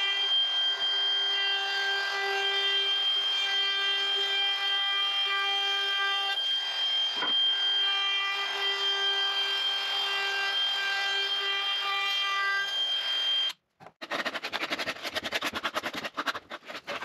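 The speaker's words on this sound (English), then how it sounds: "I have to route all of these outside edges, and then I'll have to hand sand them right away." A steady mechanical drone with whining harmonics runs for about thirteen seconds, then gives way to quick, rhythmic strokes of hand sanding on routed wooden window jamb trim, close and alone.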